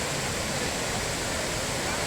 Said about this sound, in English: have a look at this waterfall. It must be a good 100-foot high or more, and it's just gushing over the edges